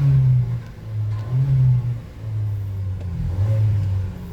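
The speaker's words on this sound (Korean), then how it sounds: "엔진 소리 한번 들어볼까요?" A SsangYong Torres gasoline engine, a reworked Tivoli and Korando unit, is revved several times in succession, each surge rising to a droning boom and then settling back to idle, close and loud.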